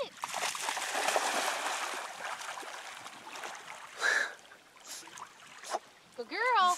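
A golden retriever puppy swims and splashes steadily in water nearby, the sloshing continuing under a person's voice, with a few sharper splashes near the end.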